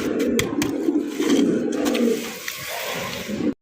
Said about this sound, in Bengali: ম্যাকপাই ডেনিশ কবুতর, সাইজ দেখবেন, কোয়ালিটি দেখবেন